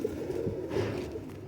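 Pigeons coo softly in a few low, throaty murmurs close by, with some background rustle and no talk over them.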